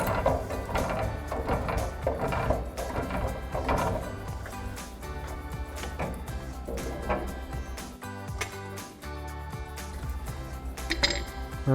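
Bilstein B8 6112 front strut spring compressor on a 2005-2023 Toyota Tacoma being wound off, a steady run of loud, close metallic ratcheting clicks with brief pauses, no talking.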